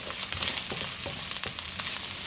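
Onions and curry leaves sautéing in hot oil in a pan with chopped green chillies and dried red chillies: a steady, close, dense sizzle with light stirring clicks throughout, no voices.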